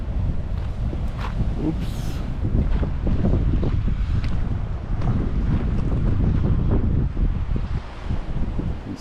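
Strong gusting wind buffets a breakwater wall on the causeway to Granite Island, loud rumbling microphone roar with sea noise beneath, and someone briefly speaks over it.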